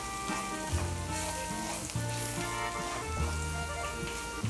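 Spices sautéing in a pan with onion, a continuous bright sizzle with scattered stirring scrapes, close and steady throughout.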